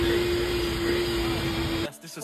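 A vacuum cleaner drones loud and steady with a constant high whine while cleaning a car interior at a detailing shop, then cuts off abruptly near the end, leaving quieter rustling.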